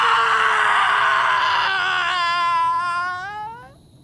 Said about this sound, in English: But the man suddenly screamed.